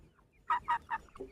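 Chickens, a rooster among them, scuffling in a fight, giving three or four loud, close clucking squawks in quick succession, then a lower call, with no talking.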